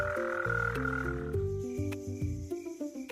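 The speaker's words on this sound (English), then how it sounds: "Toad." A toad croaks in a steady series of deep, resonant calls that shift slightly in pitch, close and fairly loud, with no other sounds.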